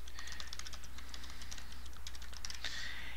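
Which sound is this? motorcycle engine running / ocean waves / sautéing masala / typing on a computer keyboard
typing on a computer keyboard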